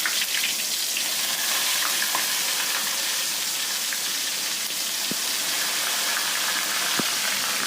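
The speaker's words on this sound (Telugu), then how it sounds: "మసాలాతో పెట్టిన వంకాయ ముక్కల్ని నూనెలో ఫ్రై చేసుకోవాలండి" Spiced eggplant pieces frying in hot oil, a steady dense sizzle that stays loud and even throughout, with a few faint pops.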